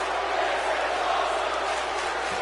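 A large wrestling arena crowd at WrestleMania 35, a dense, loud, steady roar of many voices that blends into a continuous chanting wash.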